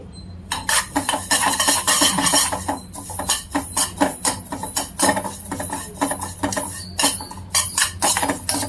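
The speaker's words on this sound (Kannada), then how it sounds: "ನೋಡಿ, ಎಳ್ಳು ಹಾಕ್ತಾ ಇದ್ದೀನಿ. ಇದನ್ನ ಒಂಚೂರು ಹುರ್ಕೊಳ್ಳಿ." Sesame seeds roast in a pan on a gas stove while a utensil stirs and scrapes steadily against the metal, with rapid close clinks and rustling and no talk.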